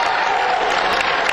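Basketball fans at a game clap together after a foul, a dense, loud wash of applause from a crowd filling the whole moment without a break.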